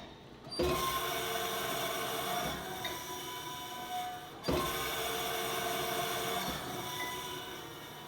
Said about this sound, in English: we switch over to a finer grit finishing stone to finish out the bushings to our final size